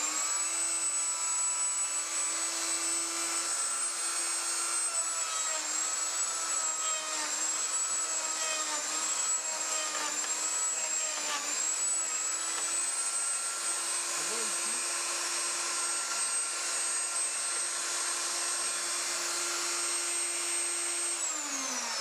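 Virutex FC116U chain mortiser widening a mortise, a loud continuous high motor whine with a steady pitch that holds throughout and drops off at the very end, with no one talking.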